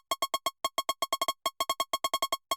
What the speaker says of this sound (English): So now it's time to add the little guitar fill.